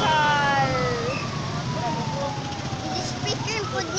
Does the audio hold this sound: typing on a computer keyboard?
no